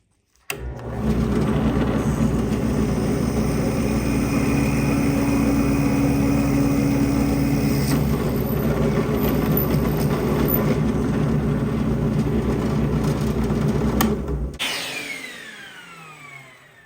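A power drill bores out a part on a Losi 5T 2.0 RC truck, producing a loud, continuous, close-up drone that holds steady for about thirteen seconds before winding down.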